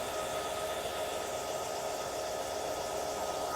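An oil degasifier machine runs beside a pad-mounted transformer, filtering the transformer oil. It gives a continuous, even, hissing whir with a steady hum underneath, close and unchanging, with no voices.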